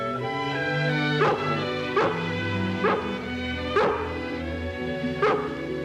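A hound dog barks and whimpers on a farm, with a series of five or six sharp barks spaced roughly a second apart, close and loud, mixed with whiny yelps.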